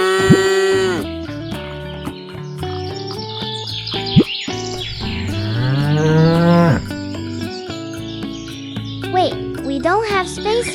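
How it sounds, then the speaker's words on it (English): Toy farm cows sounding off in a kids' mini farm setup: several loud drawn-out electronic moos in sequence, mixed with chirpy bird tweets and a child-like voice talking between them. "Look at these beautiful cows."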